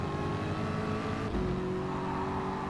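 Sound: Ford GT race car engine in video game Gran Turismo Sport

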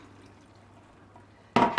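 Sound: water poured from a can into a pot of chili con carne

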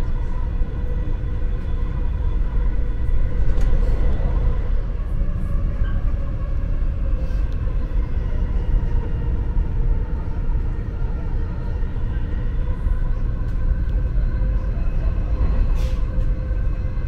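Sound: Dubai Metro train running

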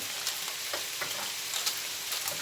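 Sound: spooning juices over Adana kebab patties in toaster

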